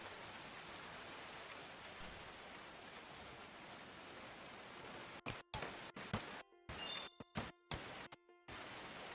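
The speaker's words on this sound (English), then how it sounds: "Glitchy rain noise." Glitchy rain ambience in the video game Going Medieval, a steady soft hiss of falling rain that abruptly stutters and cuts out repeatedly in the second half.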